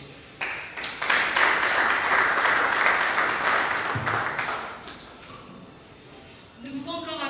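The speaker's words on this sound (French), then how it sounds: "Nous pouvons encore applaudir, s'il vous plaît." Audience applause after a conference talk on developing the personality of young Congolese, a broad crackling round of clapping that swells and holds for several seconds before fading, with a voice speaking into a microphone at the end.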